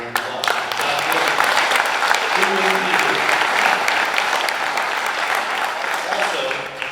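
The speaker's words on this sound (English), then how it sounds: "So let's give these guys a big round of applause." A banquet audience at a racing club awards night breaks into loud, sustained applause, dense clapping filling the room and holding steady for several seconds before trailing off.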